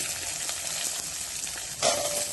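Onions drop into a pan of roasted peanuts for a curry leaf chutney and fry. A soft, steady sizzle runs throughout, with a brief louder hiss near the end.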